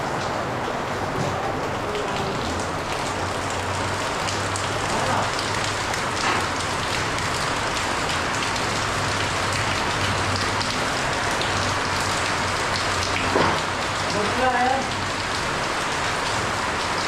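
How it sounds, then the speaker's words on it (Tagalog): Rain pours steadily on a surface at a construction project in Olongapo, a dense constant patter with a low hum beneath and a few faint sounds surfacing near the end. "Ulan."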